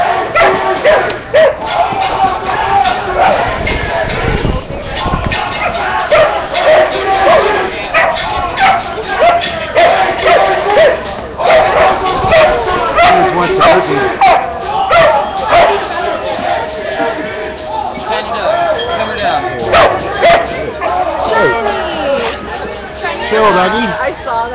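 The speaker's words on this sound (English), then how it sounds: "that's a big weenie dog." Dachshund barking at an outdoor rally against police brutality, repeated yaps and whines amid crowd babble and people talking nearby.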